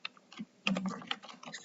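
Quick, irregular keystrokes on a computer keyboard while entering Excel VBA code, with soft clicks and a denser burst of taps midway, close and fairly quiet.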